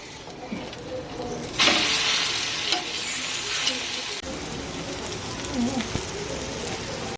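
Maggi pizza frying in hot oil in a pan, giving a steady, dense sizzle with a louder crackling surge partway through, continuous and close.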